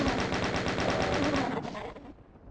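Rapid, loud machine-gun-style gunfire from the video game DOOM as monsters are shot, a steady stream of fast repeated shots that cuts off near the end, with no voices over it.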